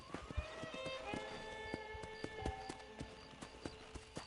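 Horse hooves clip-clop in Red Dead Redemption, a quiet, close, irregular walking rhythm of soft hoofbeats over a faint tonal game music bed.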